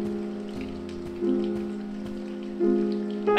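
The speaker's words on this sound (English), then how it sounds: "Yes, the rain is rather relentless, isn't it?" Relentless rain in the video game If on a Winter's Night, Four Travelers, a constant pattering wash with sustained musical notes beneath and no talking.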